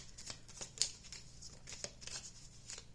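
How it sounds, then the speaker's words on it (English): A tarot card deck being shuffled by hand, a series of soft, quick riffling and sliding bursts repeating at close range over a quiet background, with no voices. "I was just shuffling the wrong deck"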